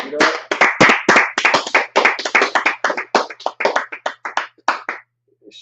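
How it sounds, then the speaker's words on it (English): Steady rhythmic hand clapping at a religious gathering, loud and close, a run of sharp claps for about five seconds with voices mixed in, then stopping abruptly. "Clap it up."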